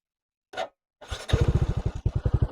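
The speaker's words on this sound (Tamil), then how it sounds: "வண்டி ஆன் பண்ணிட்டேன் செல் அடிக்கிறேன் பார்த்துக்குங்க" Electric self-starter cranking a motorcycle fitted with a new high-amp battery. One short blip comes first, then a loud, close, rapid rhythmic whirring churn of the starter that continues steadily to the end.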